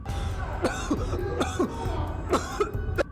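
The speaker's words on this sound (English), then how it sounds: "He is doubled over, coughing uncontrollably." A man coughs repeatedly in short, harsh bursts, close by, with brief pauses between fits and a bit of throat clearing.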